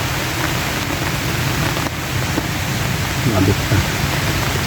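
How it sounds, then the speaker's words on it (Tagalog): Heavy rain pours down continuously in a rural setting, a loud, dense hiss of downpour with a brief spoken remark over it. "Ay nako, umulan na ng tuluyan mga idol."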